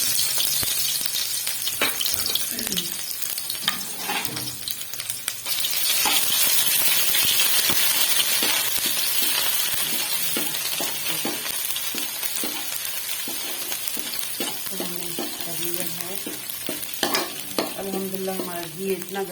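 Ginger garlic paste hisses and sizzles in hot ghee while a spoon stirs and scrapes the pan, with occasional light clinks, steady and close throughout.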